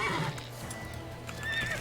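Roach, Geralt's horse in The Witcher 3, whinnies and snorts up close while hooves clip-clop steadily underneath, a short burst of horse sounds with no talking.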